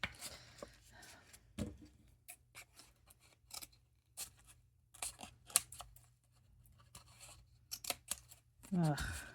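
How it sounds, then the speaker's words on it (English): Scissors snipping through paper in a paper craft session, a string of close, crisp cuts in irregular bursts with short pauses between them. "I can cut down on the bulk here and cut that down just a little bit"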